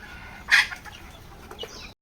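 Chickens on a poultry farm give a loud close cluck or squawk, followed by softer scattered clucks and calls from the flock, with no speech.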